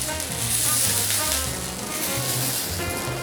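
Oyster blade beef steak searing in a hot pan, a loud, continuous close-up sizzle that stays steady throughout, with no talking.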